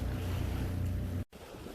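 Sailboat motor sailing in light wind while making water: a steady low engine drone with wind rush and water washing against the hull, continuous and close, briefly cutting out near the end before resuming.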